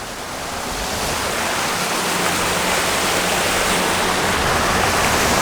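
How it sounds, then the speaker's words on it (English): Wake from a 17-foot boat with a 9.9 hp outboard running at about 9 mph rushes as a continuous loud hiss of churning water, building slightly and holding steady, with no voices. "And it's making waves."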